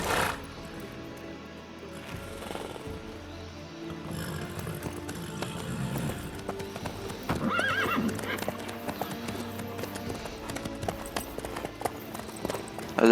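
Horse hooves clip-clopping at a slow walk in The Witcher 3 video game, a steady rhythmic clatter with a brief whinny, set under game music and ambience.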